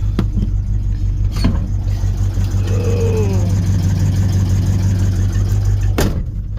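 Square body Chevy truck engine idling steadily up close while being driven off a trailer, a low continuous rumble with a few sharp knocks and clunks at the start and near the end.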